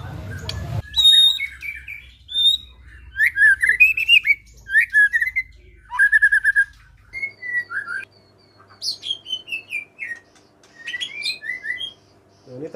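A caged white-rumped shama (murai batu) sings close and loud in varied bursts of sharp whistles, chirps and rapid trills separated by short pauses, with a brief low thump at the start and faint background hum.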